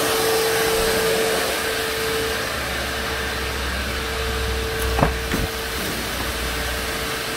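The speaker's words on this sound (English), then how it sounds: "Vacuuming her out." A vacuum cleaner drones loudly and steadily inside the interior of a 2020 Dodge Charger Hellcat Widebody Red Eye, with a couple of brief knocks near the end as the nozzle moves around.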